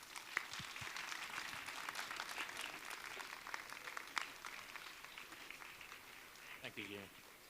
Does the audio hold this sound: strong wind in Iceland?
no